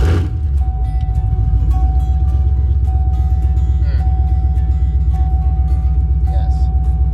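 A Ford Coyote V8 car with open headers drives along, its engine a loud, steady low rumble heard from inside the cabin, with a constant whine running over it.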